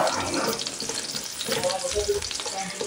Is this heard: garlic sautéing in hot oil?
yes